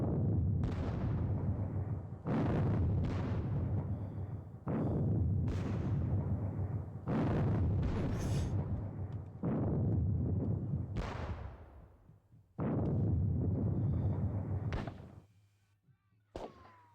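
Indirect artillery fire in a Napoleonic wargame at the Katzbach: a series of about seven loud, deep cannon booms spaced a second or two apart, each with a rumbling tail, ending in a fainter distant thud.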